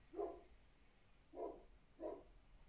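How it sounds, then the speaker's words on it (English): A neighbour's Great Dane barks a couple of doors away, three deep, muffled woofs spaced about a second apart, faint and distant in a quiet room. "that's a neighbour's dog barking."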